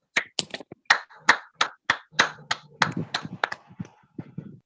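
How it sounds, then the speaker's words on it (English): A few people clap and snap fingers over a virtual meeting connection, sparse sharp claps in an irregular rhythm that grow busier midway, close and fairly faint. "Please give a virtual round of applause right now as she takes over the meeting."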